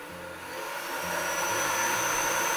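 A Dyson vacuum cleaner with a brush that won't spin starts up and runs, a motor hum rising over the first second into a steady loud whirring roar.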